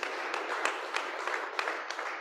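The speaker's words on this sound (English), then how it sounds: "So please, can we do a clap so that we bring Lawrence Banks" A conference hall audience at a science, technology and innovation event gives a short, dense burst of steady clapping to welcome a speaker, sustained and fairly even throughout.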